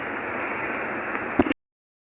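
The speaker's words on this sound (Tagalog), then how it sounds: "Malakas ang ulan ngayon." Dense rain hisses steadily on surfaces close by near the Marikina River in Marikina, Philippines, with a brief soft voice just before the sound cuts off abruptly.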